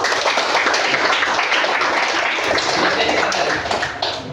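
Students in a class applaud together, a dense burst of clapping from many hands that tapers off near the end.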